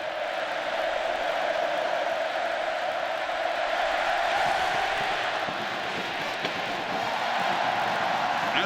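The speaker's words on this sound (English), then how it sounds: "the crowd has never been bigger or louder than right now" A huge college football stadium crowd roars without pause at a 2014 Ole Miss versus Texas A&M game, a loud, dense wall of cheering that swells slightly and never drops away.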